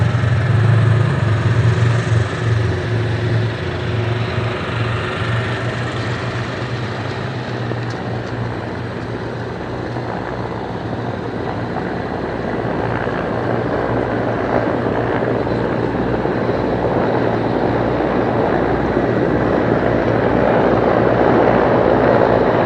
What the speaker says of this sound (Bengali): বিজিবি দিবস প্যারেডে প্রথমবারের মতো সংযুক্ত হয়েছে হেলিকপ্টার ফ্লাই পাস্ট প্রদর্শনী। এতে অংশগ্রহণ করছেন বিজিবির 2টি হেলিকপ্টার।